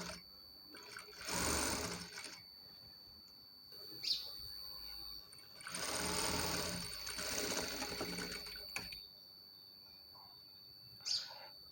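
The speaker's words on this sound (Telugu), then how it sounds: "ఇలా పాదమంతా వెడల్పుతో సన్నగా ఒక స్టిచ్ వేసుకోవాలి." A sewing machine runs in two long bursts of rapid stitching, laying a thin, foot-wide stitch along the edge of a dori trim, with short clicks and quiet pauses between the runs and no talking.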